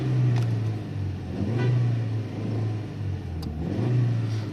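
A car engine running on petrol hums and revs as the vehicle drives, the pitch rising and falling in a few cycles, close and steady with no talking.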